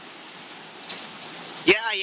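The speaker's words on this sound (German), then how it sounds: "Endlich wieder Regen an der Küste." Rain falls on a coastline during a thunderstorm, a steady close hiss that swells slightly midway and ends with a short, sharp burst as a voice-like sound cuts in.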